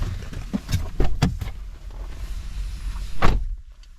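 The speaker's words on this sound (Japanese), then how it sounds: "こっちの方が多分ドアの閉まる音とかも軽いと思いますよ。" A Toyota car door shuts with a light thud, among several short knocks and handling clicks from the door, then a sharper slam near the end, close by and fairly loud.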